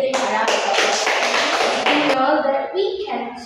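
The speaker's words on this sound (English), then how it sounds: "Let's give them a round of applause." An audience claps at a talk on non-verbal communication, a burst of close, dense clapping for about two seconds before it thins and a voice comes in.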